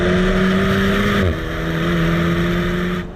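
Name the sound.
Alpine A110S sports car engine revving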